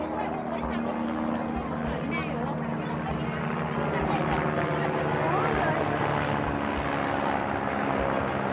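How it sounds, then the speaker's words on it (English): A helicopter's rotor chop throbs steadily overhead, loud and continuous, with people talking beneath the engine noise. "it started off with a chopper flying overhead"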